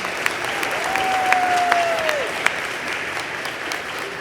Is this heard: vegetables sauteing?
no